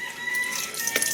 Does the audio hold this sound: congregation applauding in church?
no